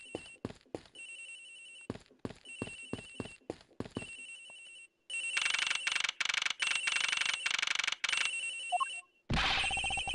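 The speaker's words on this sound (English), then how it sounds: "His phone is ringing from somewhere, sir." A phone rings in a string of electronic bursts, with short repeated chirps at first and then longer continuous trills, clear and fairly close, with no talking.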